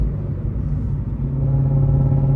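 A Shelby GT350 with a modified exhaust, rumbling while driving, gives a deep, steady, grumbly drone that is close and fairly loud, with a slight rise in pitch toward the end.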